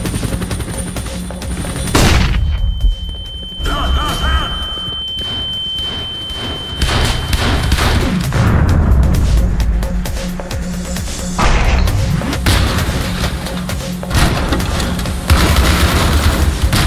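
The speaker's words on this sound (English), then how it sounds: "Deploying flashbang." A flashbang goes off in the People Playground sandbox game as a sharp, loud boom, followed by further booms and bursts of gunfire-like blasts through a busy, dense mix.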